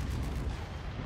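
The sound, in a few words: dual Gauss cannons firing in a video game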